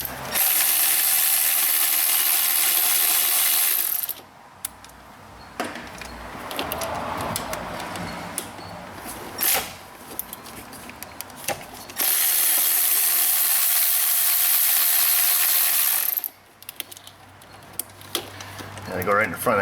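A ratchet clicks and whirs in bursts while big Torx bolts come off a Corvette fuel rail, close up, with someone talking in the quieter gaps between the loud stretches.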